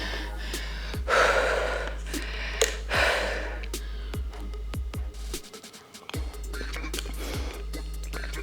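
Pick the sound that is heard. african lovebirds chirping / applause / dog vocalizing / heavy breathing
heavy breathing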